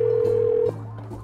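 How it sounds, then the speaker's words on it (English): A telephone in a Nancy Drew game sounds a steady dial-style tone for under a second, then cuts off abruptly, leaving faint lower hum behind. "Let's call Frank and Joe then."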